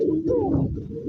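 A pair of pigeons, a male and a female, gives a single short, low, throaty coo at close range.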